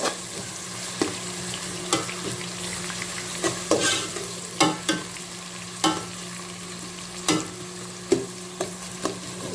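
A spoon stirs and scrapes through frying onions in a covered pot for an aloo murghi chicken and potato curry, with repeated sharp clinks and scrapes over a steady close sizzle.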